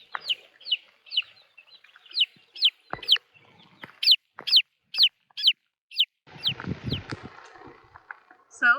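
Repeated sharp clucks and squawks from meat chickens in a steady rhythm, fairly close, with a burst of shuffling noise and flapping near the end.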